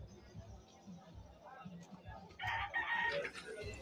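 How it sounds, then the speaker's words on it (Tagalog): Fighting roosters crowing at an outdoor market, a crow rising loudly near the end over busy crowd noise, with people talking throughout. "Ayan po, mga panabong na manok"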